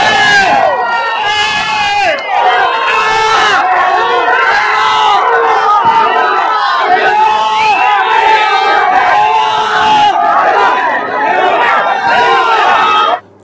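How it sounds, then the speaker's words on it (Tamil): A dense crowd at Chennai airport cheers and chants loudly in welcome, a continuous roar of shouting voices with rhythmic calls rising and falling, close and overwhelming throughout. "அந்த ஏர்போர்ட்டை இடிஞ்சு உள்ள அளவுக்கு தலைவா தலைவா தெய்வமே தெய்வமே அப்படின்னு சும்மா தெரிக்க"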